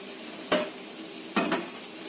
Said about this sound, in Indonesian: Kita tumis dulu sosisnya ya.